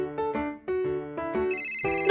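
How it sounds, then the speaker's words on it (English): A melodic electronic ringtone from a phone in a Baby Panda police game plays a bright, repeating run of tones with a higher chime layered on top toward the end, loud and clear with no voices. "The phone's ringing"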